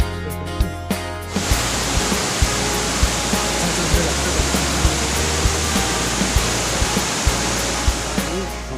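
The Marleshwar waterfall roars as a loud, continuous broadband rush of falling water heard from close by, with faint intermittent clicks over the steady wash.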